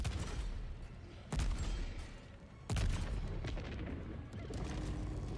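Heavy booming shots from a weapon in Helldivers 2, two loud blasts spaced more than a second apart, each trailing into a rumbling decay, with low clatter and combat noise between them.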